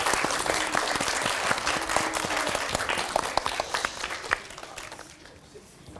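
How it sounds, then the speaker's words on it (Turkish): Children applaud at a school poetry event, sharp individual claps scattered through a busy round that thins and tapers away near the end. "Alkışlar gerçekten çok güzel"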